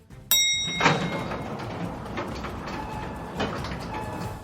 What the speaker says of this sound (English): I let go of the button to let the doors open.